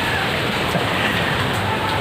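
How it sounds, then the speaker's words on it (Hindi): Dense, steady hiss of heavy rain pours continuously, loud and close, with no pauses or other sounds breaking through. "बारिश तेज़ हो गई है"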